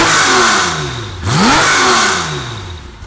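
A Porsche 964 fitted with a custom titanium GT2RS exhaust revs up loudly from idle, rising and falling twice in a sharp, high-pitched sweep, close and with no talk.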